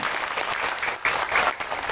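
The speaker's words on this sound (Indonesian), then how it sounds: "Saya minta tepuk tangan dulu dong buat panitianya ini" A seated audience at an Islamic religious talk applauds the organizing committee with a steady, dense wash of clapping that stays loud and even throughout.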